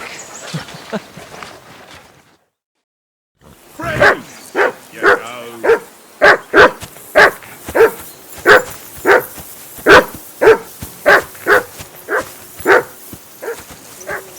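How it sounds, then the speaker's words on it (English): A dog barks over and over in a steady, insistent rhythm, loud and close, after a brief stretch of quieter sounds and a short silence, in the video game Kingdom Come: Deliverance II. "Henry, that barking's driving me nuts!"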